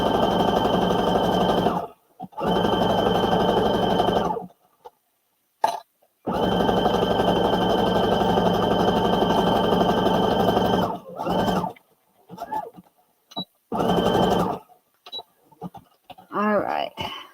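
A sewing machine stitches a seam on a Simplicity S9456 garment in long, steady motor runs of several seconds each, separated by short pauses and a few brief starts near the end.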